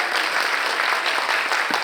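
Audience applause welcomes a pansori singer to a lecture on Korean traditional music, a steady dense wash of clapping that holds from start to finish with no voices over it.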